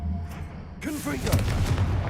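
A Confringo explosive spell blast in the Hogwarts Legacy video game erupts suddenly, a loud burst that gives way to a sustained crackling, rumbling roar, with a voice faintly under it.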